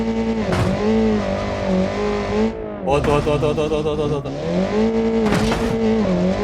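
An off-road vehicle's engine revs hard and climbs in pitch, easing off and pulling again in repeated surges while it drives, loud and close, with voices talking over it.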